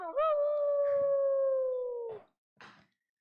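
A dog howls in one long sustained wavering note, close and clear, then a short yelp-like break and a brief second sound after a pause.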